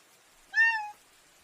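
A single cat meow, clear and close, rising briefly and then fading, alone against a quiet background.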